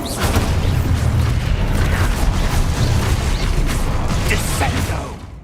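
A loud, dense blast from the Expulso spell in the video game Hogwarts Legacy, a sustained rumbling burst with crackling debris that holds steady for several seconds before tailing off.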